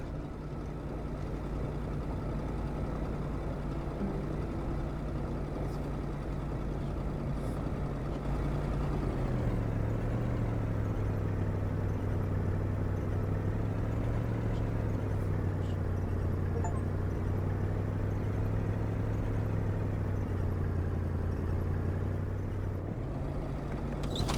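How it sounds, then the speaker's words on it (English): A truck engine runs continuously with a low, steady rumble that dips slightly in pitch partway through and then holds level, loud and close with no speech over it. "The truck was running on fumes."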